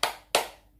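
Two sharp hand claps in quick succession, part of a classroom clap chant, close and crisp with a short decay after each.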